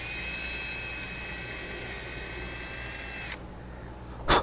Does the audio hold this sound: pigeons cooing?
no